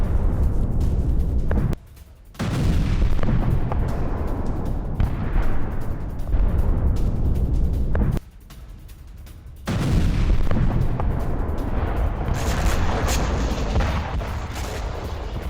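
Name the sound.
JDAM aerial bomb strike on Russian base, news footage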